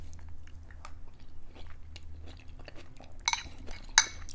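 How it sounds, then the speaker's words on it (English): Chewing a bite of keto hamburger helper topped with avocado and a soft-boiled egg, soft close-up mouth sounds with a couple of sharper crunchy clicks near the end, no talking. "I'm gonna taste it again for you guys"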